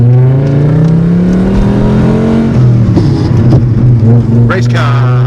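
A VW Passat B2 car accelerates with a loud, droning engine note that climbs in pitch, drops at a gear change and rises again, heard from inside the car.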